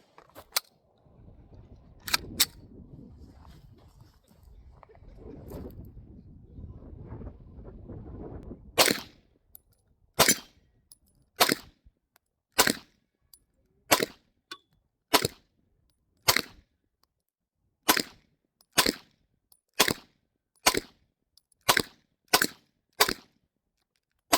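A Beretta APX A1 9mm pistol fires about a dozen sharp, distant-sounding shots at a steady, unhurried pace, each crack short and isolated, after a stretch of low handling noise and a couple of earlier single reports.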